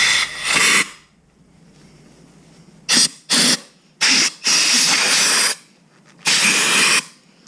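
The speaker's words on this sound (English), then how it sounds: "Just spray it. Hit the hose." Bursts of compressed air hiss loudly from an air compressor hose while changing motorcycle grips, several short blasts and a longer spray separated by pauses.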